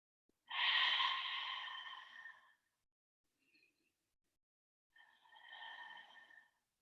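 Slow, deep breathing during a family yoga session: a long audible breath, a faint short one, then another long breath, close and quiet in a silent room.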